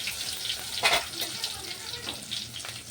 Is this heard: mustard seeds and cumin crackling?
yes